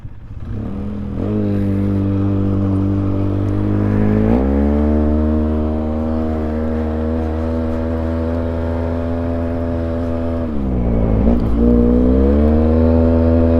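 A 2003 Polaris Sportsman 700 carbureted quad ATV being ridden, its engine droning loudly and continuously up close, with the pitch rising as it revs near the start, again around the middle, and once more near the end.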